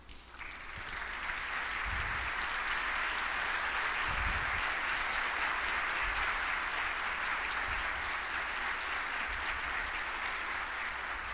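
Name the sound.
audience applause welcoming a speaker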